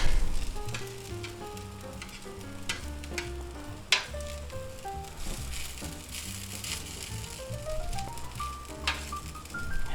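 Potato cake with ham, egg and cheese fries in a covered pan, giving a steady sizzle beneath continuous background music, with no talking.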